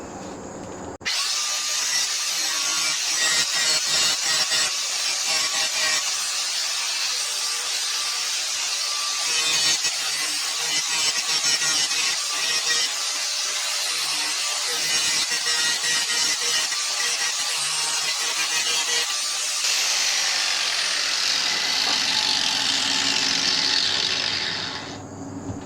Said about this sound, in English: So let's get a grinder and grind that off.